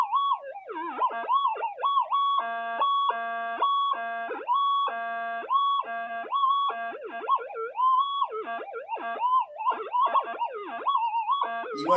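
A GPX5000 metal detector, being fine-tuned indoors, screams loudly under interference, wailing in warbling, siren-like tones that chop into rapid pulsing bursts and then sweep back into long sustained squeals.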